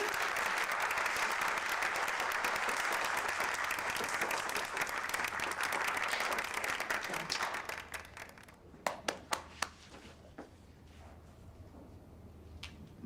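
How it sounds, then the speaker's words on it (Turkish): Wedding crowd breaks into sustained loud applause for about eight seconds, then the clapping thins to a few sharp isolated claps against quiet room noise. "Alkış!"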